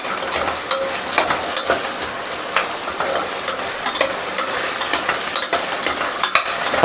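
Onions and tomatoes sautéing in a pan with rock salt, a close, steady sizzle broken by repeated scraping and stirring clicks, with no talking.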